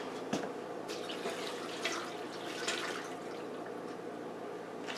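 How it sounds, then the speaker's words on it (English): Water pours steadily into a Power Pressure Cooker XL pot already packed with linguica sausage and mixed vegetables, a soft continuous trickling and splashing at moderate level, heard alone without talk. "I'm going to add more water."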